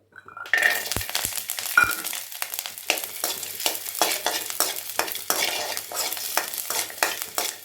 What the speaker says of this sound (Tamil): நல்லா செவர வறுத்துக்கோங்க.